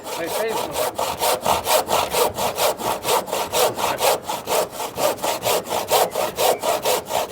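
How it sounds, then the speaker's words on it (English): A hand saw cuts through a wooden hip rafter in a steady rhythm of rasping back-and-forth strokes, close and loud, about three strokes per second. "This is very awkward bit of sawing"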